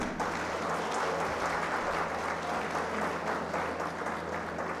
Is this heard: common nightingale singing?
no